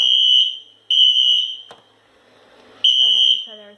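A fire alarm sounding during a test gives piercing high electronic tones in long bursts separated by short silent gaps, loud and close.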